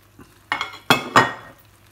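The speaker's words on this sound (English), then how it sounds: "Stirring our white wine" White wine being stirred into risotto in a pan, with three close scraping, sloshing strokes of a spoon in quick succession and a faint sizzle underneath, and no one talking.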